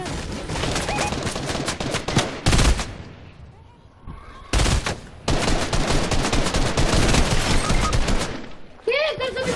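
Rapid bursts of video game gunfire crackle loudly, with brief pauses between volleys and more shots following.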